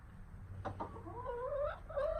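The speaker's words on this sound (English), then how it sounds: "Miss Anna was making all kinds of noises, so I thought she would have laid it by now" A pendulous crop hen clucks and croaks before laying an egg, a short run of low, throaty calls rising into drawn-out vocal notes, fairly close and alone.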